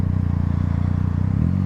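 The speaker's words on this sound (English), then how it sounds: "I don't know if you can tell how loud that exhaust is" A 2016 Yamaha FZ-09 with a full titanium Akrapovic exhaust and Power Commander burbles loudly through downshifts, a rapid throbbing exhaust pulse close by, with no talk.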